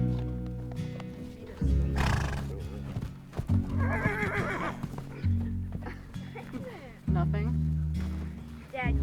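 A horse whinnies several times close by, its neighs rising and falling over a steady musical bed, with hoof clip-clops and some talk mixed in.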